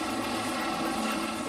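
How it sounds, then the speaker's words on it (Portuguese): A fire department helicopter lifting off, its rotor and turbine making a steady, loud, continuous whirring roar with no pauses. "helicóptero está levantando voo."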